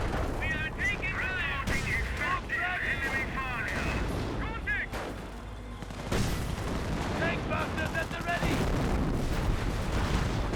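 Mortar blasts and gunfire from a Company of Heroes battle, including an incendiary mortar striking a garrisoned building, form a dense, continuous barrage of booms and shots under a commentator's voice.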